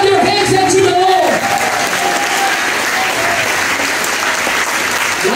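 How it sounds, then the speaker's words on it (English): A church congregation claps during a Sunday worship service, producing loud, dense, continuous applause from a crowd that fills the room. Voices mix in beneath the clapping. "Clap your hands unto the Lord."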